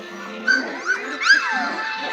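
Small puppies whimper and yip in a few short, high, close-up cries rising and falling over a low steady background, with no talking.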